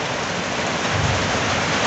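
Fresh rain pours down steadily in a dense, even hiss, close and loud, with no voices.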